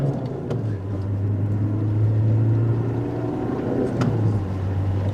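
Citroen Xantia with a 70bhp diesel engine revving hard, a loud steady low drone that holds pitch throughout, dips briefly near the end and climbs again, heard from inside the car with no talking.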